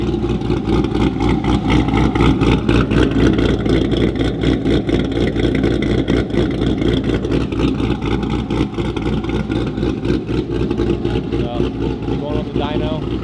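A 2018 Chevrolet Corvette C7 Grand Sport V8 idles outdoors with new headers burning off oil, a loud continuous rumbling drone filling the whole stretch without pause.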